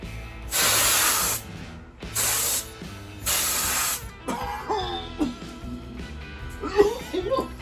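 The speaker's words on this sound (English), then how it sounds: "start cleaning this, is hit it with a little duster" Canned air duster blasts into a Marantz 1060 receiver during cleaning: three loud hissing bursts about a second each, followed by someone speaking and coughing.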